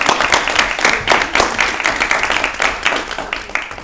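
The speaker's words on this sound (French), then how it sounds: "je vous propose qu'on vous applaudisse pour le travail réalisé" Applause at a municipal council meeting in Najac, a loud, close burst of many people clapping together with a pulsing, uneven rhythm that continues steadily for about four seconds.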